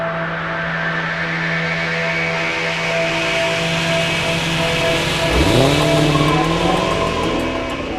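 A supercharged Dodge Challenger Hellcat engine drones steadily, then roars up sharply as the car launches and accelerates hard, with a hint of tire squeal.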